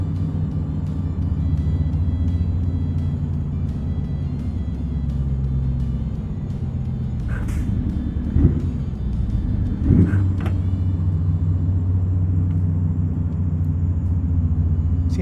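Heavy long-haul truck engine droning steadily with deep low rumble on the open road, continuous and close, with a couple of brief clunks midway and no talk.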